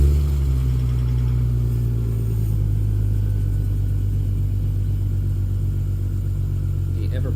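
Cold start of a Toyota 2JZ-GTE VVT-i engine, showing burned oil from worn valve stem seals: a loud, steady low idle rumble close by, holding an even level with a faint rise near the end.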